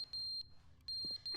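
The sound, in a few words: awful beep sound in the video game The Stanley Parable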